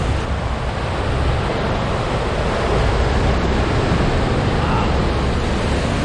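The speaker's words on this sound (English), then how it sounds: "So this water here is coming out of those turbines" Water rushes out of the dam turbines into the Susquehanna River at York Haven, a loud, dense, steady roar. A voice gives a short exclamation over it.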